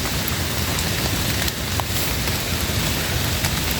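Steady, dense rain hisses across the whole stretch during a rainy-day hunting outing, with no voices.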